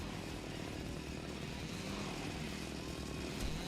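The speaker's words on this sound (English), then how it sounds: "Alright, we got the chainsaw duel now." Chainsaws roar during a duel in the video game Splatterhouse: a loud, steady, buzzing engine drone fills the whole stretch without a break, and no one speaks over it.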